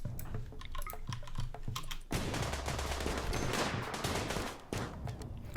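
Rapid gunfire in the colony game Rimworld during a tribal settlement raid, first sparse scattered shots, then a dense sustained fusillade of overlapping bursts that stays loud before easing near the end.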